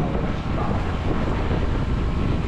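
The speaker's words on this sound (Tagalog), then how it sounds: "Lakas ng hangin." Steady, roaring wind buffets the microphone with constant low rumble and broadband noise, a strong wind on choppy open sea aboard a fishing boat off Davao, with no pauses.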